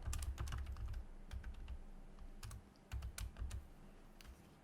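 Quiet, close typing on a computer keyboard in irregular bursts of clicks with short pauses, heard alone at low level during web design work.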